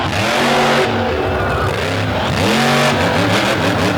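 Race car engine, an Eddie Micah chassis with a Jansen-shop engine, revving hard at an All Star season opener, loud repeated rising accelerations under crowd and track noise.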